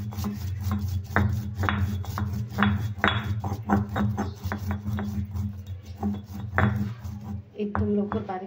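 Cumin seeds crushed with a pestle in a stone mortar, a steady run of gritty grinding and knocking strokes, close and fairly loud, with a low steady hum underneath.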